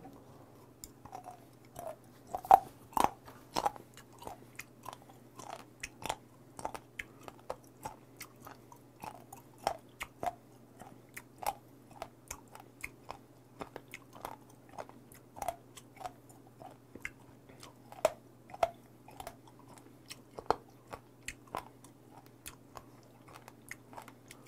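Raw sea squirt being chewed up close, a long run of soft wet crunches and bites in an uneven rhythm over a quiet background hum, with no talking.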